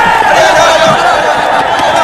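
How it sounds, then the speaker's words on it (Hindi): Busy crowd noise in a crowded place, a loud dense wash of many overlapping voices and general bustle, steady throughout, with individual speech blending into the murmur. "डैड, भीड़ बहुत है"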